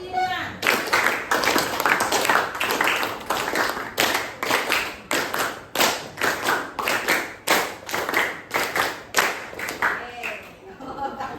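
A classroom of children claps in counted rhythmic patterns, with a long run of bright, evenly spaced group claps broken by short pauses, while young voices call out along with the beat.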